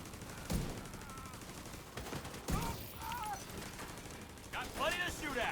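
Bursts of video game gunfire during a team firefight, sharp shots scattered across the clip over a busy background, with brief bits of voice.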